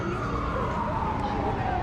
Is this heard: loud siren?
yes